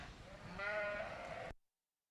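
A Shropshire ewe at a regional sheep show gives a single drawn-out bleat, faint and somewhat distant, rising and wavering for about a second before cutting off.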